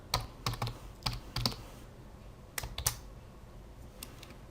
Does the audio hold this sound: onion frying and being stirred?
no